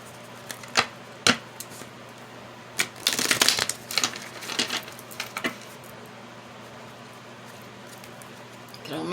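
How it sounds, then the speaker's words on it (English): Tarot cards shuffled close up in quick riffling bursts: a few sharp isolated snaps, then a busier flurry of papery flicks and taps, fading back to a quiet room. "Shuffle the cards really good."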